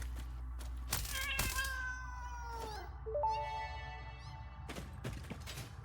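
Stingers, the spider-like alien creatures of the game Satisfactory, give repeated cat-like meows with rising and falling tones, several overlapping calls over a low ambient hum, punctuated by a few dull thumps.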